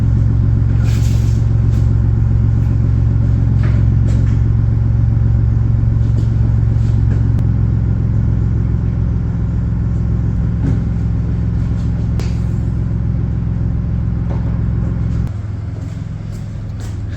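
A 1998 Lotus Esprit's modified 3.5-liter twin-turbo V8 idles nearby with a steady, deep rumble, holding an even note for a long stretch before the tone drops slightly near the end.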